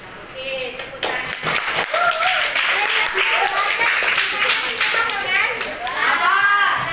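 Students in a classroom clap their hands together in a lively burst of applause that continues for several seconds, mixed with children's voices.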